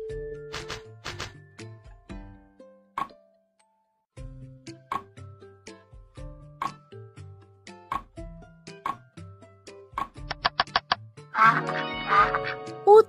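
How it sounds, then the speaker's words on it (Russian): A toy duck's recorded quacking plays as blocks are assembled, a series of short, spaced, bright quacks amid clicks and chimes, ending in a denser cluster of calls. "Утка."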